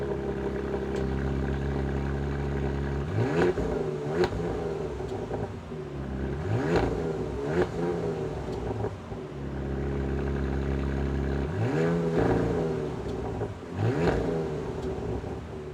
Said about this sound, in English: huge dual exhaust that sound absolutely amazing